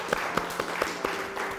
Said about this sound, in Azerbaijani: Təbrik edirik, istəyirəm alqışlayaq Əli Qismət müəllimi